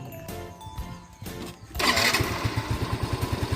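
A Honda Mio i 125 scooter cranks over briefly, then fires up and settles into a steady, evenly pulsing idle, close and fairly loud.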